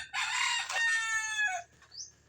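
A rooster crows once, loud and close, a long strained cock-a-doodle-doo, followed by a brief high squawk.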